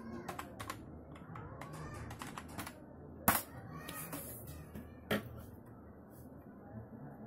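Computer keyboard keys are tapped in short irregular bursts, quiet and close, with a couple of louder sharp clicks standing out among the softer keystrokes.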